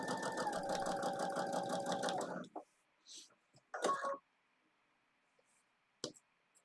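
A sewing machine stitches fabric seams for a large pillow, a fast, even mechanical whirr running close and loud for about two seconds, then stopping, followed by scattered clicks and handling knocks in a quiet room.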